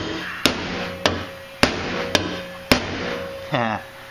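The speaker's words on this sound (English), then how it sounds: "So let me just give this a couple whacks with a hammer." Hammer blows on rusted sheet metal of a GMC truck during rust repair: five sharp, evenly spaced metallic whacks about half a second apart, close and loud, followed by a brief ringing scrape.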